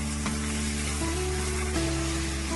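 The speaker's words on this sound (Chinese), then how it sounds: "再把腌好的五花肉和汤汁一起倒进来，翻炒均匀，炒出香味" Marinated pork belly and its juices stir-fried with spices in a hot pan, sizzling steadily and loudly with a few scraping stirs, no voices.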